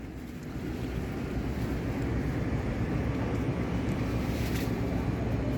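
A ship moving past on a river as cargo comes in, a steady broadband rumble with wind buffeting the microphone, continuous and fairly loud throughout with no voices.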